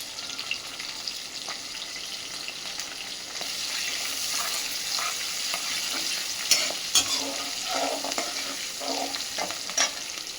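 Ginger pieces, green chilies and asafoetida frying in oil in a pan, with a constant bright sizzle, occasional spatula stirs and small pops, close and moderately loud without any talk.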